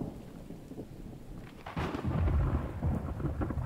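Rain falls steadily in the game The Infected, then a deep rumble of thunder rolls in midway and lingers under the downpour.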